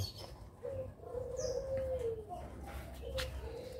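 Spotted doves kept in cages cooing softly, a few low drawn-out coos with faint chirps and a little wing flapping, quiet against a background hum.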